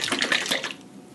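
Heavy rain pours down outside in a steady broadband wash that fades somewhat toward the end of the brief moment, with no talking.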